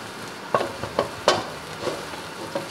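Sea foam candy mixture with baking soda stirred in a pot, with a series of irregular scraping and tapping strokes over a steady bubbling hiss.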